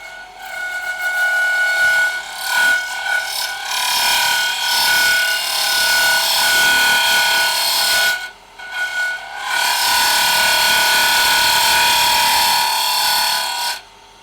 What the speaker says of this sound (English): now I want to use this as a regular parting tool like I would on a piece of wood